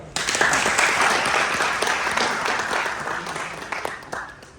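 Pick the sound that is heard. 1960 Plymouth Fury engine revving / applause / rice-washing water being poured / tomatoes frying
applause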